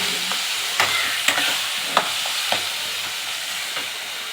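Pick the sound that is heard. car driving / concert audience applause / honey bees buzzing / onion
onion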